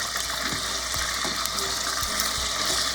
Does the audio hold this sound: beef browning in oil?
yes